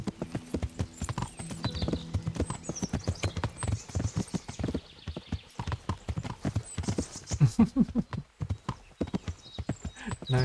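Horse hooves clip-clop steadily in the medieval video game Kingdom Come: Deliverance, a continuous walking rhythm of sharp knocks, with a brief whinny partway through and no talking.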